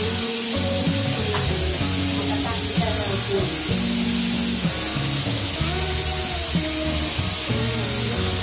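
Oiled flatbread sizzles on a hot pan with a steady, loud frying hiss that runs the whole time, with voices or other sounds faintly over it.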